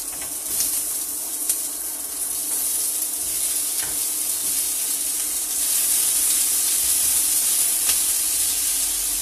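Onion and tomato sizzle steadily in a hot pan for tomato-based tortilla soup, a continuous close frying hiss that grows slightly louder partway through, with no talking.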